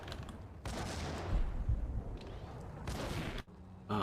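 Grenades blasting repeatedly in Max Payne, with several loud, close bursts of explosive noise. The detonations come one after another and leave short gaps of quieter game ambience between them.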